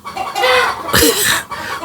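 A chicken clucks loudly and close, a rapid run of throaty clucks and squawks filling the short moment with no talk over it.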